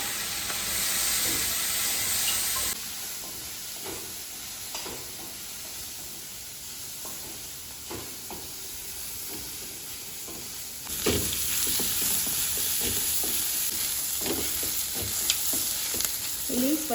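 Paneer cubes fry in a pan with a steady close sizzle and hiss, scattered crackles and spoon clicks, the frying noise rising louder near the end.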